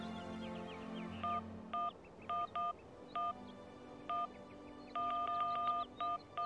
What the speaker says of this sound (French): Et ouais, le téléphone portable.